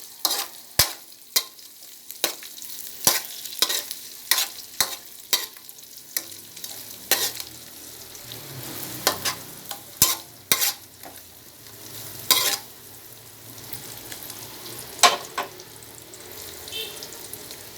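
Sliced, flaked galunggong fish sautéing in a pan for ginisang monggo, a steady sizzle broken by frequent sharp clacks of a utensil stirring against the pan, close and fairly loud.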